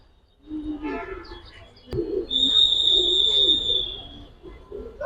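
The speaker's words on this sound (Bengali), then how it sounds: "পুরান জাতের হ্যারিকেন কবুতর" Old-breed Hurricane pigeons coo at close range in short low throaty bursts, mixed with brief whistling tones and people talking nearby.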